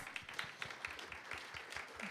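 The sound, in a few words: audience applause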